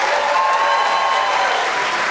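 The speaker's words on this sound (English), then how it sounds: "A round of applause for all of these incredible young men and ladies." Steady, full applause from the audience at a school distinguished academic awards dinner, honoring the award-winning students, sustained and even throughout without speech on top.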